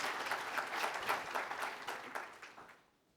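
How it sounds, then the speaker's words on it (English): Audience applause at a panel event on the future of development, a dense burst of many hands clapping together that holds steady, then fades out near the end, with no talking over it. "Please give Mark a round of applause."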